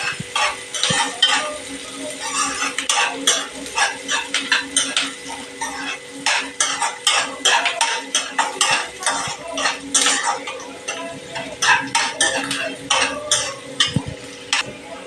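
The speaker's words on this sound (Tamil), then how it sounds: "பாருங்க வெங்காயம் நல்லா ஃப்ரை ஆகும்" Onions fry in a pan for a Sunday lunch dish, stirred with a metal utensil that scrapes and clinks in a steady rhythm over a continuous close sizzle, with no talking.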